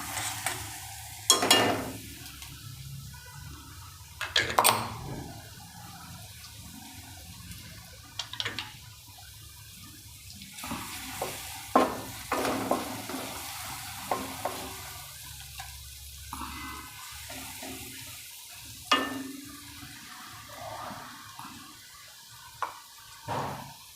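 Ginger, chili and garlic paste sautés in a pan: a soft, steady sizzle broken by the clatter and scrape of a spoon stirring every few seconds, close up with no talking.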